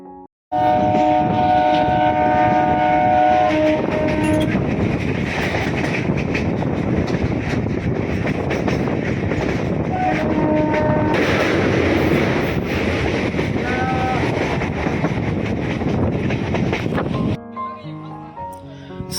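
A local passenger train on the line from Sealdah to Namkhana runs loudly and continuously, with a steady rumble and rattling wheels, and sustained horn-like tones sound near the start and again midway, recorded from on board.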